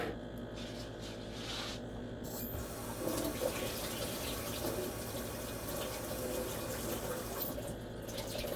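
A kitchen tap runs steadily as something is rinsed under it, a continuous rushing splash with slight shifts as the item moves through the stream.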